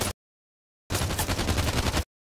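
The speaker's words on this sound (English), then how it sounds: "first kill goes to the chain gun turret" A chain gun turret in a video game fires one rapid, loud burst lasting just over a second after a short clipped blast and a silent gap.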